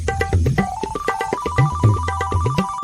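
A melodic electronic ringtone plays a repeating tune of bright beeping notes, fairly loud and close, continuing without pause.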